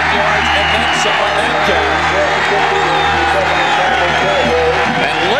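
A football crowd cheering loudly at a high school game, a dense, continuous roar of voices and whoops, with a commentator's voice heard over it.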